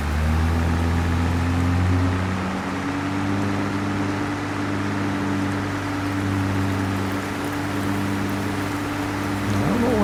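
Steady rain in the video game Farming Simulator 22 on PS5, a constant loud hiss of falling water laid over a low, droning engine hum, continuous for the whole stretch, with no talking.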